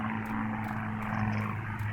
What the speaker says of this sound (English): There's another plane.